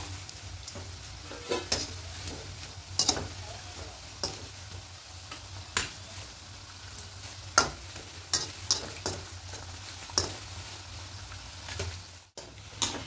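Sattu-stuffed khasta kachoris fry in hot oil over a medium flame, a steady close sizzle broken by frequent sharp ticks and scrapes as oil is spooned over and the pieces are turned, with no talking.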